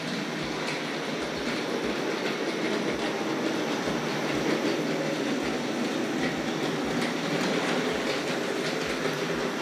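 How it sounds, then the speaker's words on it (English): Tri-ang model railway goods wagons behind an R.153 saddle tank locomotive rattle along toy track with a steady, regular clickety-clack of rail joints and a constant metallic whirr, close and continuous. "Makes a lovely little sort of set of rattles on the rails, those wagons."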